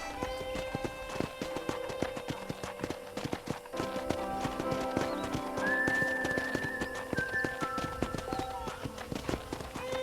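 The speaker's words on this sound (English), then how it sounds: "I picked out a fine horse for you." A horse in Red Dead Redemption trots and gallops along, a steady rapid clip-clop of hooves with tack jingling and occasional whistle-like tones over a soft backdrop.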